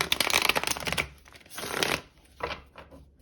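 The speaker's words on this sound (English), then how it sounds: "I'll give the deck a few more shuffles." Tarot cards being riffled and shuffled in several quick, crisp bursts, close and fairly loud, with short pauses between them.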